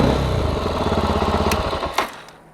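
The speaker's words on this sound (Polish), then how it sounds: "Ten szum i kurgot jest normą w tych silnikach." A Chinese-made 400cc single-cylinder motorcycle engine idles with a steady, chugging thump and normal hum and clatter, then a couple of sharp clicks as it shuts off and the sound fades.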